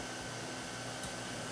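A carpet extraction cleaner drones steadily and loudly throughout, a continuous broadband motor and suction roar used on hotel carpet, with no talk over it.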